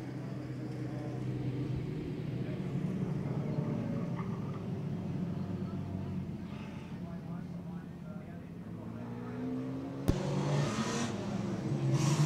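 Street stock race cars, among them an FG Falcon, circle at reduced pace under a yellow flag. Their engines make a steady, continuous rumble, and a commentator's voice runs over the top of it.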